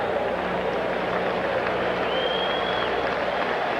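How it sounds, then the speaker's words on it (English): Baseball crowd at a Cardinals vs Phillies game in 1993 cheering and applauding on their feet as pitcher Curt Schilling leaves the game, a steady dense roar of clapping and voices throughout, with a faint whistle midway. "The crowd on their feet anticipating Schilling leaving the game"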